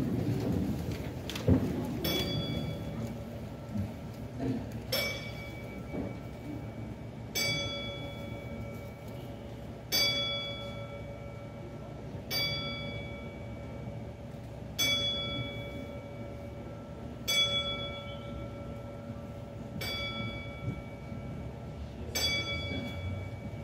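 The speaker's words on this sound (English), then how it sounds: "stand to your feet while we toll the bell 10 times for those who could not be here with us this evening" A single bell tolls ten times for a memorial at a wrestling event, with evenly spaced ringing strikes about every two and a half seconds over a low room murmur.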